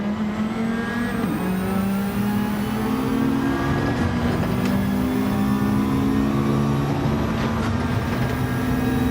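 Racing car engine in a racing video game, revving loudly and continuously with steady rising and falling pitch sweeps and a brief gear-shift dip, close and alone without talk.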